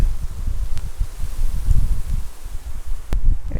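Strong wind gusting outdoors while a rabbit is butchered, a loud continuous low rumble and buffeting against the microphone with a faint rustle, steady throughout the clip.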